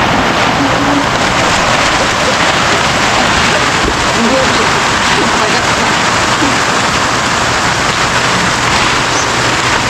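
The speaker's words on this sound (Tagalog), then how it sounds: "lumakas yung ulan" Heavy rain falls hard and close, a dense, unbroken roaring hiss that holds at the same loud level throughout.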